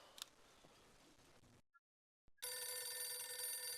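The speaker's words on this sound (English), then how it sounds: "despite the phone's ringing" A telephone rings in the horror adventure game Phantasmagoria 2, a loud, bright electronic ring cutting in abruptly after a brief silence and sustaining to the end, following quiet background ticks.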